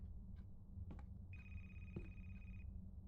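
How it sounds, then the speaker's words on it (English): In a horror video game, a telephone rings with one clear sustained trill after a couple of brief tones, faint against a low background hum. "That's a phone."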